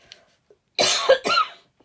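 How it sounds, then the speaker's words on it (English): Two harsh coughs from a woman with a tickly throat, close and loud, coming in quick succession after a brief quiet pause. "I'm so sorry I'm coughing."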